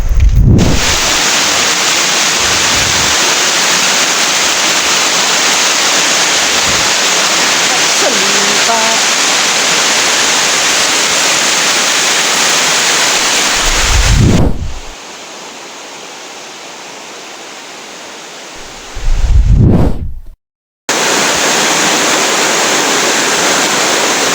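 A creek's flowing water rushes in a steady, dense hiss that fills the clip, broken by low thumps of handling, a quieter stretch in the middle and a brief dropout near the end.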